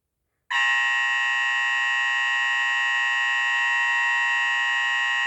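A Hosiden Besson Banshee fire alarm sounder starts abruptly and blares a continuous, piercing electronic tone at steady volume, somewhat muffled.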